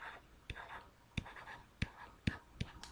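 Marker or chalk strokes on a classroom board during a math lesson on estimating sums, a few short scratchy taps and squeaks at irregular intervals, faint and close, with no talking.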